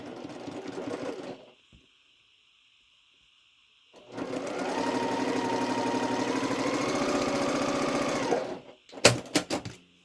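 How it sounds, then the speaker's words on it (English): A sewing machine stitches flying geese quilt pieces for a star quilt. A short burst of whirring is followed by a pause, then a longer steady run of rapid mechanical stitching, and it ends with a few clicks. "So let's go ahead and sew that."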